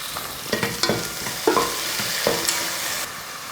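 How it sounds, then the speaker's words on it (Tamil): Carrot, beans, green peas and tomato sauté in a hot pan, with a steady low sizzle broken by repeated close scrapes and clacks of a spoon stirring the vegetables. "ஒரு கேரட்டும் 4 பீன்ஸும் சேர்த்துக்கிறேன். இதையும் வதக்கிடலாம்."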